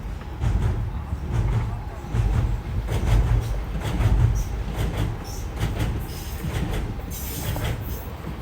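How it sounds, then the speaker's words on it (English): A fast train rumbles past in Stratford, London, with a steady low roll and faint clicking of wheels, moderately distant under a continuous drone-like hum. "Got a fast train over here coming."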